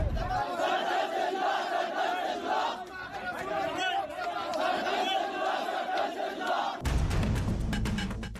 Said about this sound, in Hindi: ये भीड़ मारकाट के नारों के साथ सड़क पर उतरी